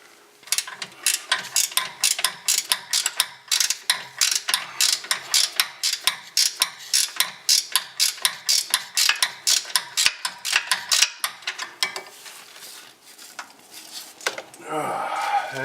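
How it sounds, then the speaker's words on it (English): A ratcheting wrench works on the sway bar of a 2003 Buick Century: quick, rhythmic bursts of metallic clicking repeat up close for about twelve seconds before stopping, with a brief clatter at the end. "Or you can use a ratcheting wrench, which I'm using."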